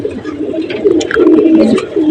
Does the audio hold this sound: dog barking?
no